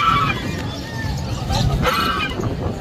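Geese honk loudly in a busy outdoor setting, their calls rising over a crowd's murmur and chatter.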